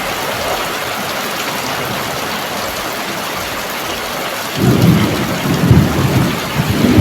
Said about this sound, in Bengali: বৃষ্টি হচ্ছে বন্ধুরা দেখো আবার ঝড় বৃষ্টি শুরু হয়ে গেছে